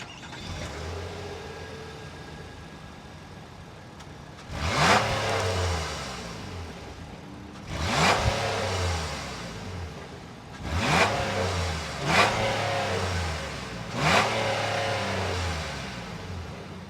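A 2025 Nissan Pathfinder Platinum's 3.5-liter naturally aspirated V6 idles steadily, then revs sharply four times, each roar rising and falling back to a low rumble, loud and close.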